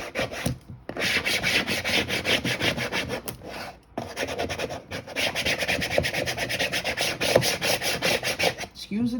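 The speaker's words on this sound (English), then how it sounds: "So now I have to burnish it again to try and get these letters to stick to the box." Vinyl letters are burnished hard onto a wooden box, giving a loud, continuous rasping rub in repeated strokes, with two brief pauses and no talking.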